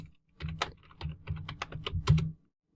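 Login credentials typed on a computer keyboard, a close run of quick, uneven clicks and clatters lasting about two seconds with no voices.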